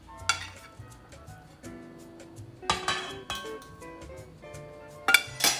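A knife cuts a piece of applewood turkey on a plate, with scattered sharp clinks and scrapes of metal against crockery coming in irregular bursts, close and fairly loud, with no talking.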